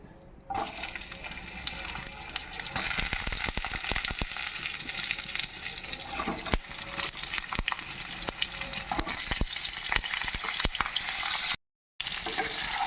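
Pointed gourd fries in hot oil with salt, giving a loud, continuous close sizzle with crackles and occasional scraping stirs, briefly cutting out near the end, with no talking.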